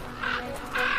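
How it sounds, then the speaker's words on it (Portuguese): Crows defend a carcass in a cold northern landscape, giving two loud, harsh caws close by, one after the other with a short gap, over a steady background rush. "Os corvos defendem o seu alimento."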